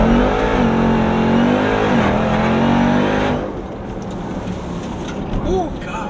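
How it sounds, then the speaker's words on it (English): Supercharged Jeep Trackhawk launching at full throttle, a loud engine roar with a rising supercharger whine for about three seconds, then dropping to road and wind noise as people exclaim. "Listen to that whine. Yeah, that supercharger sounds beautiful."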